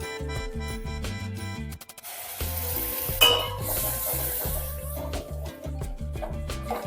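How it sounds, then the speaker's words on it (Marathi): Onion-garlic masala and Kolhapuri chutney fry in oil in a pan, giving a steady close sizzle with stirring clinks and scrapes of a utensil throughout, no voices. "तेल सुटेपर्यंत आपल्याला चांगला असा तेलामध्ये मसाला व चटणी भाजून घ्यायची आहे"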